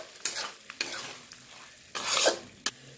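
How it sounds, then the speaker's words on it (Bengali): Fried soybeans are stirred vigorously with spices in a pan, producing bursts of scraping and sizzling separated by short pauses, with sharp utensil clicks against the pan, loud and close. "এবার ভাজা সয়াবিনগুলো দিয়ে দিচ্ছি মশলার সঙ্গে, এবার ভালো করে কষিয়ে নেব।"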